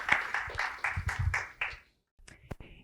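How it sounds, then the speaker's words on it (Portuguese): Scattered audience claps ending a talk by Márcia Cavalcante, a few slow, distinct hand claps that taper into quiet, followed by a couple of isolated late claps. "O público aplaude o encerramento da palestra de Márcia"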